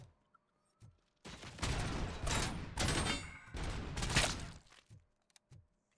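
Rapid bursts of gunfire from the RoboCop: Rogue City video game, several dense volleys of shots packed together over a few seconds, fairly loud, with quieter gaps at the start and end.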